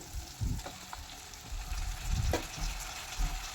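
Onions fry and get stirred in a pan while onion chutney is being made, a faint sizzle broken by soft scraping stirs in short bursts, close and quiet, with no talking.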